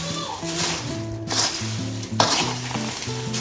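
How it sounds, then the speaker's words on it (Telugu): Deep-fried snack mixture being tossed with salt and chilli powder, giving a steady sizzling, scraping stir throughout with faint clinks, and no talk over it. "ఇలా యాడ్ చేసుకున్న తర్వాత అన్నీ కలిసేలా కలుపుకోవాలి."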